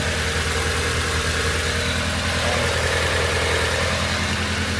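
Proton Satria GTi engine idling close up, a steady low rumble with a faint rise as it is given a light rev, no talk over it.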